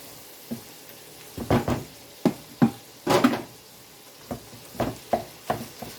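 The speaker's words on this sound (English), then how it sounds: "Using my meat masher just to mash the meat up to the texture that I want it." A meat masher pressing chopped meat in a pan with olive oil for enchiladas: a series of uneven, squelchy thumps and scrapes, some in quick clusters, over a low steady sizzle.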